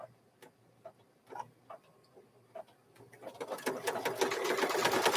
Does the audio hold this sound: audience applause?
no